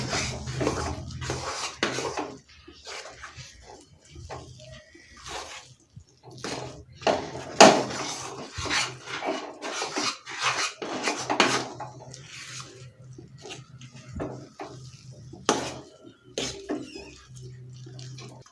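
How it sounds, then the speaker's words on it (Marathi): Puran filling ingredients mixed and stirred in a pan over a low flame, with repeated scraping and clinking of a spoon against metal and soft rubbing sounds, and a voice talking at times. "आता हे सर्व इन्ग्रेडियंट्स आपण हे व्यवस्थित मिक्स करायचे आहे"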